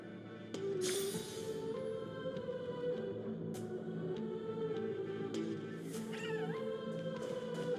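A cat meows repeatedly inside the Honkai: Star Rail game, with several calls and a wavering caterwaul over a steady backdrop of game music and ambience.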